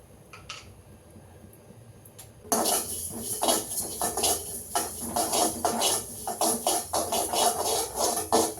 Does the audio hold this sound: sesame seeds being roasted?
yes